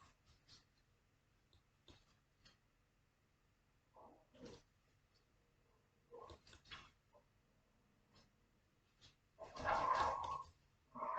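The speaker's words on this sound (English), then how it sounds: "Them dogs, they just be tussling all the time." Dogs tussle and bark in scattered bursts, some growly and close, with quiet gaps between and a louder flurry near the end.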